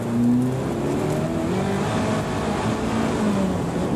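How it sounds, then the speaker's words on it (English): A racing car drives a slippery, wet circuit, its engine droning steadily up close with tonal whine shifting slightly in pitch over four seconds, no voices. "Another little bit of wheel spin"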